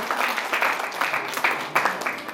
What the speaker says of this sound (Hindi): जोर से ताली बजाइए कि हमारे विधायक भी फिर से वापस आ जाए